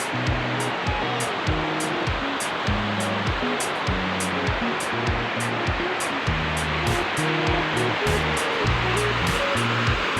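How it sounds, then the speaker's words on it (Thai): After a storm, floodwater pours over a spillway weir in a constant loud rushing roar, broad and unbroken throughout, with no voices. "ก็พาชม ฝ่ายน้ำล้นนะครับ"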